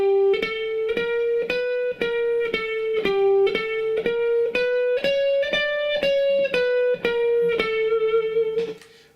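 Electric guitar playing a fast blues lick in sixteenth notes, a bright, steady run of picked notes close up with no talk, ringing out at the end.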